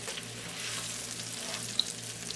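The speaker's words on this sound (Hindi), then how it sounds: "अच्छी तरह से मिक्स करेंगे अरबी को इसके साथ" Taro (arbi) pieces for Arbi 65 sizzle steadily in a pan as they are stirred, a soft continuous frying hiss with light scraping and one brief clink near the end.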